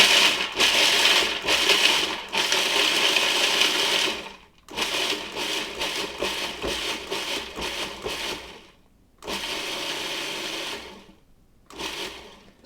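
A kitchen food processor pulses walnuts into a fine crumb in a series of loud whirring bursts, each a few seconds long, separated by short silent pauses.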